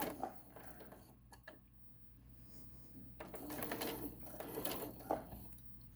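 A sewing machine stitches and back-stitches along a tote bag with a quiet mechanical whir, pausing briefly before running again in a louder, steady burst.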